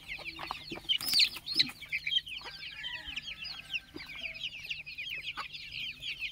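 Hen clucking among chicks in a poultry shed with separate pens, the clucks mixed with many high, thin chick peeps in a steady busy chorus, close and moderately loud, with no talking.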